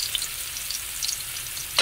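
Garlic fries in a pan for ginataang papaya with shrimp, giving a steady close sizzle with light crackles and a short scrape of a utensil near the end.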